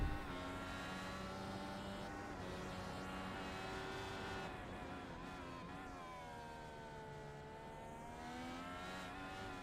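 Open-wheel race cars in a racing video game drone along at steady engine pitch, with tones rising and falling as a car lifts off the throttle to save fuel, fairly faint and continuous with no voices.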